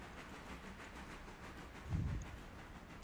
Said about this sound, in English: So we'll let the train go by.